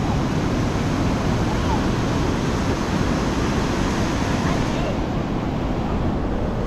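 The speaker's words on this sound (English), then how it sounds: "The later it get, the more the waves gonna come up higher." Ocean waves wash steadily onto the shore, a dense continuous roar of surf mixed with wind buffeting the microphone, loud and unbroken throughout with no speech.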